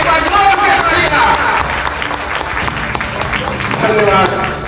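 An audience at a Kalwar community celebration of Lord Balbhadra Jayanti in Delhi breaks into loud, sustained applause, dense clapping with crowd murmur and voices mixed in.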